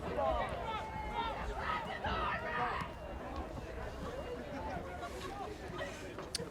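Hometown crowd at a boys high school soccer match, Memorial against Concord, a steady murmur of distant cheering and chatter under a commentator's voice.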